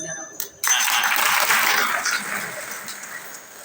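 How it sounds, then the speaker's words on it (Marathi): An audience at a Marathi kirtan on Nirjala Ekadashi bursts into clapping after a short pause, a dense burst of applause that swells and then slowly thins out, with no talking over it. "थोड्या टाळ्या बी वाजून द्या ना."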